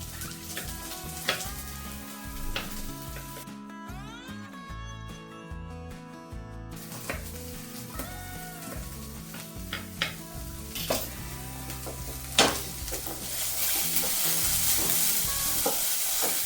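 Vegetables fry in a little oil in a pan, a soft continuous sizzle broken by stirring scrapes and sharp clinks of a utensil against the cookware.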